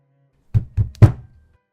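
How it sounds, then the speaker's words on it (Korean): Three heavy knocks thud on an apartment door in quick succession, close and loud, with the last blow strongest, then silence. "쿵쿵쿵 두드리고 미친 듯이 웃고 다시 쿵쿵쿵 두드리고"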